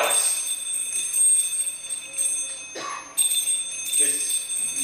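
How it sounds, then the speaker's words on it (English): Several bells ring together, loud bright metallic chimes that shimmer and sustain, with fresh strikes every second or so as they swing, while a voice narrates over them. "It swung softly in the onset and scarcely made a sound, but soon rang out loudly, as did every bell in the house."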